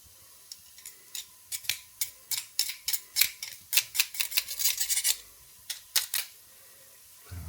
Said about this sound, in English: our garlic, which I'm just going to crush in the crusher